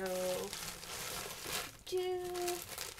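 Crinkling and tearing of strong packing tape and package wrapping being cut open, close and fairly loud, with a person talking intermittently over it.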